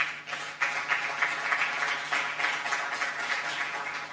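Steady crowd applause at the Botswana International Music Conference, a standing ovation for a music-industry honoree, with dense broadband clapping that holds at an even level throughout.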